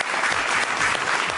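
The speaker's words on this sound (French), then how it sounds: "pour voter pour la divine Isabella, que j'applaudis très très fort, candidate numéro 3." Audience applause for a contestant on a televised talent show, a steady dense wash of clapping throughout with no talking.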